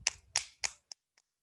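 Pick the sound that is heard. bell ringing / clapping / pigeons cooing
clapping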